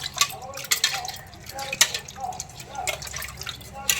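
Water drips and splashes in a sink while raw prawns are washed by hand for a gongura prawn curry, with irregular close droplets and splatters under people talking.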